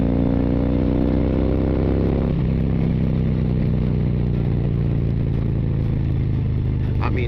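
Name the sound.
CVO Street Glide motorcycle riding fast through corners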